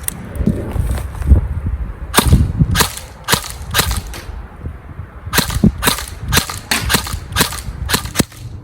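A Cyma AK74U airsoft rifle on a fully charged 9.6 volt battery fires 0.2 gram BBs in several sharp bursts of rapid, snappy shots with brief pauses between them, loud and close with no talking.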